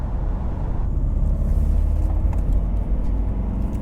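A 2000s BMW 320d E46 diesel saloon cruises in 6th gear on Avon tyres, giving a steady low engine drone and road roar at an even, moderate level with no talk.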